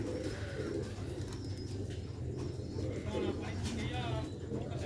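Sialkoti rooftop pigeons, a newly paired couple, coo in low repeated murmurs throughout, with faint chirps and steady background noise close by.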